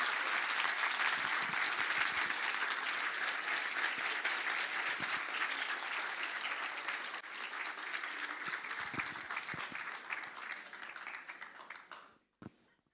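Sustained audience applause after a presentation at an English day event, dense and steady for many seconds before tapering off and ending abruptly near the close.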